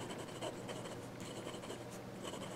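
An Amazon Basic fountain pen drags across paper in short, soft scratchy strokes, a close and faint continuous rasp of drawing with no speech.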